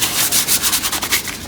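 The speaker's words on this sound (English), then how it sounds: "I'm going to start by giving it a light sanding." Steady scratchy light sanding of a wooden step stool, close up, with rhythmic back-and-forth strokes and no talking.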